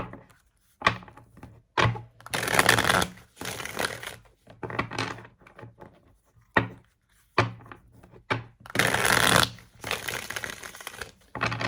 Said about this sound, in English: Shuffle the cards a little bit.